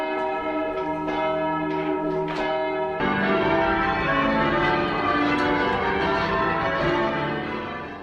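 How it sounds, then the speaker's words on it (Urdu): Church bells ring out to call people to church, several bells pealing together in a dense, continuous clangor that swells and sustains throughout, loud and close with no voices. "عیسائیت میں بھی آذان کے طور پر اس طرح سے گھنٹیاں بجائی جاتی ہیں جس کے ذریعے سے لوگوں کو چرچ آنے کی دعوت دی"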